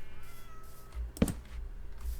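A cat in the Minecraft video game gives a single short meow, close and moderately clear, against quiet background ambience.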